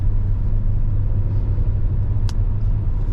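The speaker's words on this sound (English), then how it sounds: "Do have a little bit of wind noise here on the highway." Inside a 2023 Kia Telluride SX at highway speed, a loud, steady low road rumble and wind roar fill the cabin, with one brief faint higher hiss partway through and no voices.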